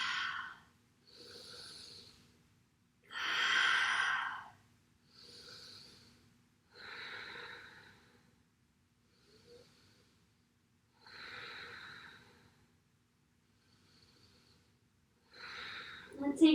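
Slow, deep breaths during a yoga stretch, each inhale and exhale a long soft whoosh separated by pauses, repeating about six times. The breathing is close and quiet, and a voice talks between breaths.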